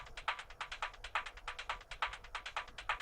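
Crisp, steady percussion loop panned slightly right for a techie groove: quick ticking hits with a subtle low pulse beneath, looping evenly throughout at moderate level, with no voices.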